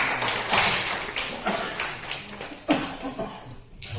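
People at a wellness camp give a participant a faint, scattered round of hand clapping. The soft, irregular claps sound fairly distant.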